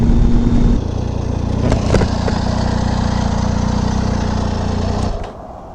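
A Triumph Tiger 800 XRT motorcycle engine idles close by with a steady, smooth low rumble and a slight rev in the middle, then cuts to a quieter tone at the end.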